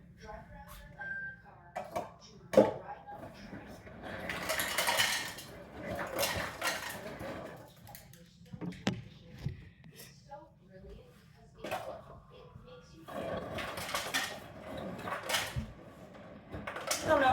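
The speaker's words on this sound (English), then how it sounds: "I'm gonna get some ice and put it into the blender." Ice cubes clatter and clink into a blender jar for a chocolate protein iced mocha, with scattered sharp knocks and rattles of dishes in a home kitchen, plus a few louder bursts of rattling.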